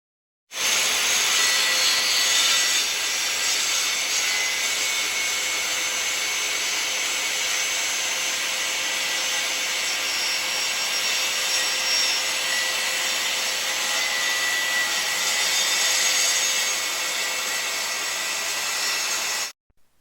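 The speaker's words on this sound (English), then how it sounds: "run the saw blade through each subsequent work piece line of travel" A circular saw cuts diagonally through hardwood plywood in one long continuous pass, a loud steady whirring roar that begins abruptly, holds for nearly twenty seconds and then cuts off sharply.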